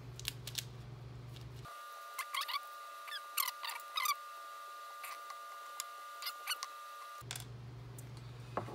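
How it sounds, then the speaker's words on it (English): Screws being unscrewed from a 3.5-inch hard drive held in a server caddy: scattered small clicks and ticks come in short bursts against a quiet background, with no talking. "we need to unscrew these four screws, and these four screws are holding the HDD in"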